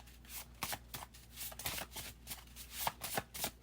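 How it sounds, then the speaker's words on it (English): A homemade deck of cards is shuffled over and over, giving quick, close riffling bursts in an uneven rhythm with no talking. "this deck is so hard to shuffle"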